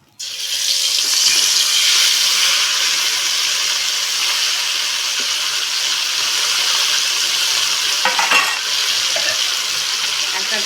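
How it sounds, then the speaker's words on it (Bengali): Monpia fish frying in hot mustard oil in a kadai, restaurant-style tawa fry: a loud, steady, dense sizzle with faint crackles that holds for about ten seconds, with no talking. "তেলটা গরম হয়ে গেছে, এবার এর মধ্যে মাছটা দিয়ে দেব।"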